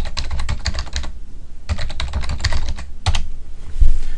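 Someone types a password on a Windows computer keyboard, two quick bursts of rapid key clicks with a short pause between them, then a few final taps, close and alone.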